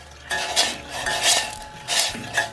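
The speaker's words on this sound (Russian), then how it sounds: "Перемешиваем." A spoon stirs salted water in a metal pot on the stove, giving a few distinct scraping clinks against the sides in an uneven rhythm, close and fairly clear with no talking.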